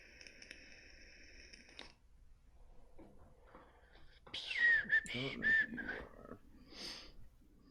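A person whistles a few short, bright rising notes, nearby and fairly loud, after a steady tone and some quiet background noise.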